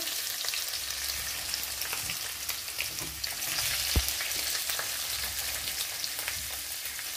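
Paneer shallow frying in a little hot oil, a steady close sizzle and crackle with occasional spatters and a brief stir of the pan.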